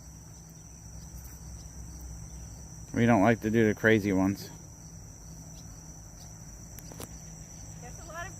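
Crickets chirp in a steady high-pitched drone throughout, while a person speaks briefly partway through.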